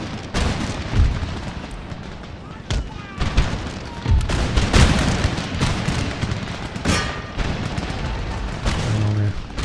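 Musket volleys in Empire: Total War with DarthMod, rolling bursts of gunfire and booming cannon-like cracks scattered across the battle, some sharp reports standing out, with a voice speaking over the din.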